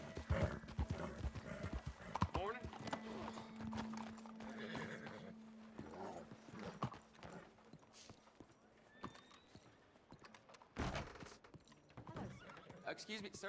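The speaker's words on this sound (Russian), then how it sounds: "Лошадь уже ругается, типа устала" A tired horse in a video game clip-clops along with hooves and gives several whinnies and neighs, with scattered game effects and bursts like gunfire around it.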